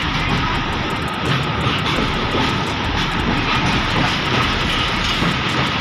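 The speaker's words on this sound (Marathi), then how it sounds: "रेल्वे जाईल आता बघू शकता" A heavy train rumbles past at close range, a continuous loud roar of wheels and engine with rhythmic clatter, no voices.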